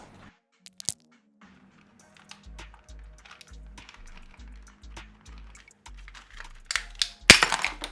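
A Kodak Fun Saver disposable camera being pried open, sparse plastic clicks and cracks building to a sharp snap near the end, close and intermittent over a low rhythmic thumping.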